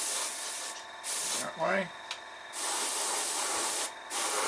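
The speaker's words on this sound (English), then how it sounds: "Take the opportunity to spray some of the bits I didn't paint" Aerosol spray paint hissing onto unpainted parts of a model, in several steady bursts of a second or so each, close and loud, with a brief voice between bursts.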